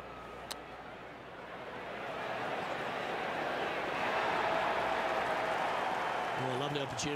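Golf gallery in the video game PGA Tour 2K23 at the WM Phoenix Open, a broad swelling wash of applause and crowd noise building steadily, with a brief voice near the end.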